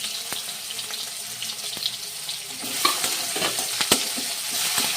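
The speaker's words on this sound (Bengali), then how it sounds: "তেলটা কিন্তু আমার গরম হয়ে গেছে। প্রথমেই কিন্তু আমি টমেটোটা দিয়ে দিলাম, কিন্তু আমি আদা বাটাটাও দিয়ে দেব।" Tomato and ginger paste fry in hot oil for a fish curry with yogurt and mustard paste, a steady close sizzle with stirring scrapes and spattering pops that grow louder toward the end, no voices.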